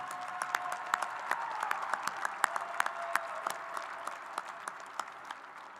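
Audience at a high school graduation applauding performing arts students, dense sustained clapping from a large crowd with a few sharp nearby claps standing out, no talking.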